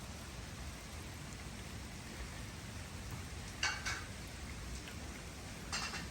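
Steady summer rain falls on a home garden with fruit trees, a soft continuous hiss with a few brief louder patters, faint and without voices.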